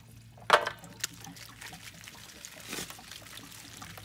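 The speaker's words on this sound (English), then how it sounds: "that's the hot water draining from the hot water tank" Water drains steadily from a travel trailer's hot water heater tank through the drain plug opening at close range, with a few sharp clanks and a faint gurgle partway through.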